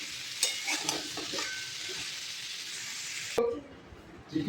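Pumpkin with tomato and torn green chili fries in a pan, a steady bright sizzle with a few stirring scrapes, ending abruptly and giving way to quieter room sound near the end.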